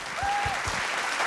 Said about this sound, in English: Round of applause, please, for Nesian Beauty.